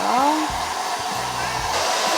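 A hair dryer blows steadily and loudly throughout while drying a bathed cat, with a brief rising whine at the start and no talking.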